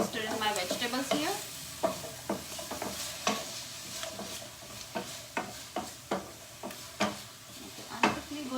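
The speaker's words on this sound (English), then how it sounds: "I'm just going to stir in my vegetables here." Vegetables frying in a pan as they are stirred, with a soft steady sizzle under repeated scraping and clattering strokes of the utensil, several per second, close and fairly quiet.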